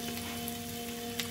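Potatoes and onions frying in a wok over a low gas flame, a soft steady sizzle with faint crackles, quiet and continuous.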